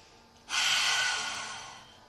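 Single deep exhale during a yoga session, a breathy whoosh that rises suddenly and slowly fades, close and fairly soft with no talking.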